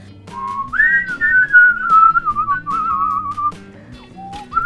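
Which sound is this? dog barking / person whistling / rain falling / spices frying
person whistling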